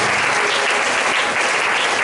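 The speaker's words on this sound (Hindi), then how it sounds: "जोरदार ताली बजाएं प्रभु के लिए।" Loud, steady applause from a church congregation fills the whole moment without pause.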